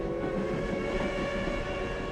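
A train runs along the rails with a continuous, dense rolling rumble at an even level from start to finish, with no voices.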